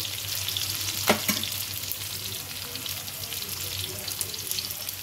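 Dal-chawal ingredients frying in a pan toward golden brown make a continuous, close sizzle, broken early by a couple of sharp clinks of a utensil against the pan, with no talking.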